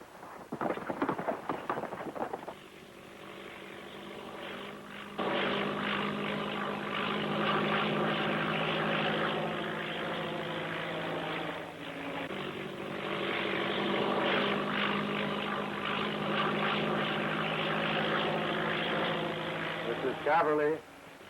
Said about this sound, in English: where's this plane coming from? From Los Angeles.